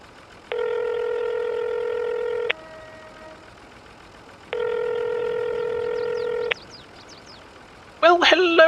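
An outgoing telephone call rings at the other end: two long, steady electronic ringing tones separated by a pause, followed by a voice briefly answering at the end.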